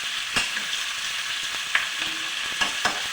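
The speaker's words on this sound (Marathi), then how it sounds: "मिरची चांगली फ्राय करून घ्यायची आपल्याला" Stuffed capsicum chillies fry over a high flame in a pan, a soft steady sizzle broken by a few sharp pops and spatters at irregular moments, with no voices.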